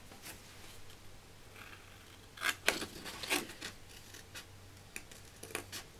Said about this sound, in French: Je vais découper ça.